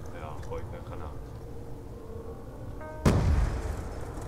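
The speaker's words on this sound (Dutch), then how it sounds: "Ja, gooi ik een granaat." A grenade bursts in Call of Duty Black Ops 2 Zombies, a sudden loud broadband boom that cuts in near the end after a stretch of steady game ambience and soft tones, then rumbles and fades.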